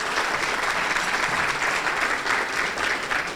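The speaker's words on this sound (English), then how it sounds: "you can give her a round of applause for that" Continuous, loud applause from a crowd at a membership meeting, a dense unbroken wash of clapping with slight swells and no talk over it.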